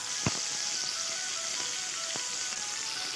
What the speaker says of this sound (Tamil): வெங்காயம் லைட்டாக ஃப்ரை ஆனால் போதும்.